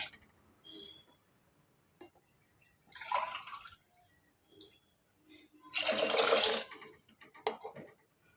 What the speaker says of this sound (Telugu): ఒక గ్లాసు బియ్యానికి రెండు గ్లాసులు నీళ్ళు పోసుకోవాలి